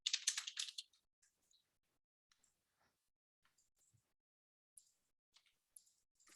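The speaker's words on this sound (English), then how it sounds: "let me type in a couple names here" Quiet, sparse typing on a computer keyboard, with a brief cluster of louder clicks at the start and then scattered single keystrokes.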